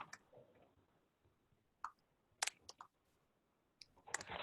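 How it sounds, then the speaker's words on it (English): Keys tap on a computer keyboard while a place name is entered into a search engine, a few sparse, quiet clicks in small clusters separated by pauses, close by and without talk. "So I'm just typing Hyattsville in Google."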